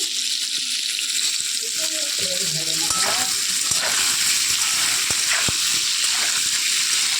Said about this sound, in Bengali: এই যে আলু পটলগুলো ভেজে নিচ্ছি।